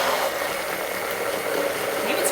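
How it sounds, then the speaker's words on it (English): A two-speed stick blender whirs continuously while blending pizza sauce, a steady, loud motor buzz with slight shifts in pitch that holds for the full stretch. "Stop with the stick blender."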